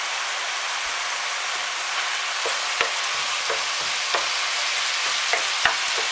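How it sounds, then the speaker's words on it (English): Mince browns in a frying pan for a 1980s spaghetti bolognese, giving a steady, close sizzle with a few sharp clicks and scrapes from stirring. "Once you've got your mince browned"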